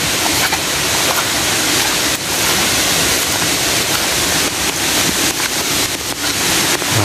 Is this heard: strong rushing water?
yes